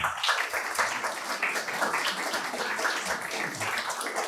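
An audience at a 2023 talk event applauds President Temer, with a steady round of clapping at moderate level that carries on through the whole stretch.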